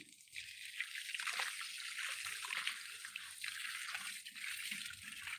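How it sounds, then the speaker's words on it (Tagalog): Running water splashes and hisses steadily, like a hose or spout pouring onto water spinach plants, fairly faint and continuous. "Lunurin natin ng tubig ang kangkong."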